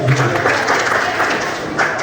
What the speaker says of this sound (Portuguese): Se senta aplaudindo a Jesus.